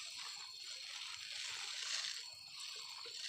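Water poured over bonsai cuttings until the soil is soaked, a steady close splashing trickle running throughout without pause.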